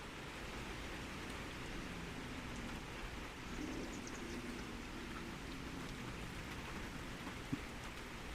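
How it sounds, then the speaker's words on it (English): Rain falls steadily outdoors in Kansas City, a soft, even hiss with faint low thunder rumbling underneath, all quiet and distant, with no talking. "So now we're getting the rain."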